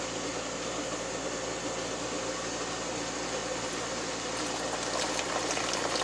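Liquid is poured off during silver refining, a steady, unbroken wash of flowing, splashing noise that holds level throughout with no pauses.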